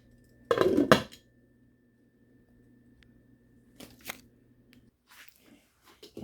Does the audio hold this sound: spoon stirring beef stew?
yes